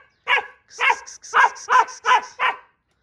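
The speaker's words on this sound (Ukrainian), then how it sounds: "5 хвилин будеш гавкати" A Laika hunting dog barking six times in a quick, steady series, close and loud, with a high-pitched whistle-like tone sounding between and alongside the barks.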